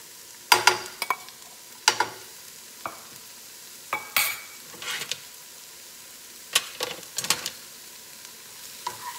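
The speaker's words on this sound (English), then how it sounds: "I'm also gonna add some baby bella mushrooms chopped up. I'm just gonna let that cook." Chopped baby bella mushrooms sizzle steadily in a pan for a chickpea scramble, with a soft constant fry broken by irregular scraping stirs of a utensil against the pan.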